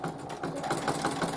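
Home sewing machine back tacking a few stitches on a pillowcase seam, a close, steady mechanical whir with a fast rhythmic stitching pulse that speeds up slightly, with no voices.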